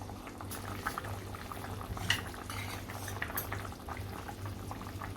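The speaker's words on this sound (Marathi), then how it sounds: "आता ओपनमध्ये आपण फक्त 1 मिनिट चांगलं उकळून घेऊया, आपलं कालवण तयार होईल" Fish curry bubbles steadily in an open pot, a continuous close boil with small pops and a low hum throughout, plus a brief clink near the middle.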